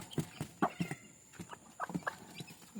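Young chicks peep and cheep in quick, scattered bursts alongside soft clucking from a hen, fairly faint and close by, with no talking.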